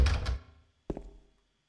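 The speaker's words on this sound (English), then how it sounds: "let's check all these doors." A door in the 2001 Silent Hill 2 video game is tried: one dull thunk and then a second heavier knock a moment later, short and close, each fading quickly into silence.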